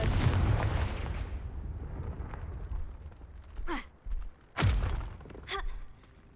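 A Confringo fire spell blasts in Hogwarts Legacy, a booming explosive impact with rumbling debris that fades, followed by a few sharper thuds and whooshing magical bursts.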